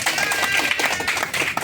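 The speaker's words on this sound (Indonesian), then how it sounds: "Kita tepuk tangan dulu buat ini." An audience at a New Year gathering claps hands together in a dense, continuous patter that stays fairly loud throughout, with a crowd murmur underneath.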